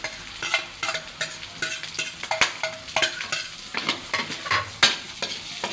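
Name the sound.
onion sizzling in a frying pan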